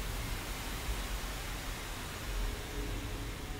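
Steady, dense hiss of broadband noise filling the whole clip at an even level, with no voices or other sounds on top.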